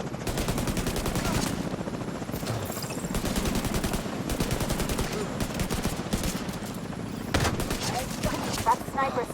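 Sniper and other gunfire during a firefight in the video game The Division 2, loud and dense throughout, with rapid repeated shots and bursts layered over a constant rumble of battle and some voice underneath.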